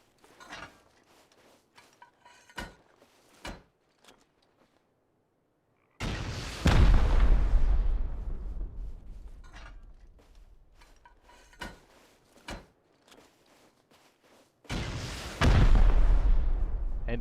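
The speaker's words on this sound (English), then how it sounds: "what's the best way to take out more than one thing at a time? Rockets." Rocket explosions in the video game Rust: two heavy, loud booms with long rumbling decays, separated by sparse clicks and clanks of handling and footsteps.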